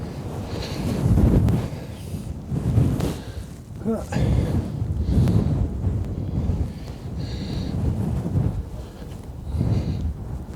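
Strong wind on a cold Dartmoor hilltop near Haytor Rocks buffets the microphone in rumbling gusts throughout, loud and continuous, with a brief voice partly buried under it.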